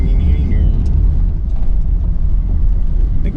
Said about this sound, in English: Here's the shot of us driving along in our automobile.